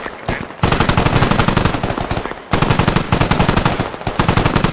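Machine gun fire from a gunner in the video game SquadOps: two long, rapid automatic bursts, loud and close, separated by a brief pause, with a short burst before them.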